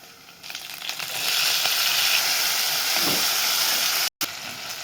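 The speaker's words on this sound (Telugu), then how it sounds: "ఇప్పుడు కొంచెం అల్లం పేస్టు టమాటాలు వేసుకొని అవి కూడా కొంచెం మంచిగా ఫ్రై కానిద్దాం" Ginger paste and tomatoes fry in a pan with a loud, steady, close sizzle that rises after the first second and holds, broken by a brief sudden cut near the end.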